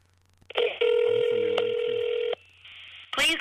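A phone call rings out on the line: a brief dial tone, then a long ringback tone, a pause, and a short burst of sound at the end, clear and close.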